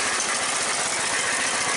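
A Briggs small engine idles steadily after a swap to a Nikki carburetor, with a loose baffle inside the muffler. A dense, continuous mechanical drone with a fine rattling texture runs evenly throughout, close and loud, with no talking.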